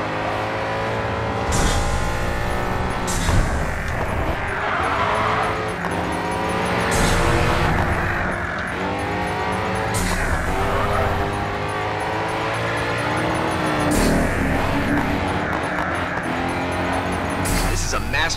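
Ford Mustang GT500 race car in the racing game GRID 2, its loud V8 engine revving steadily and climbing through repeated gear shifts across the whole stretch, with a voice talking over it.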